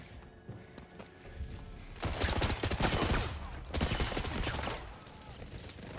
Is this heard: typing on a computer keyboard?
no